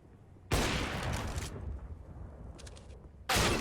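Gunfire during a Counter-Strike match at IEM Katowice 2021, dense bursts of rapid shots in two loud volleys separated by quieter rattling and clicks, with no speech over them.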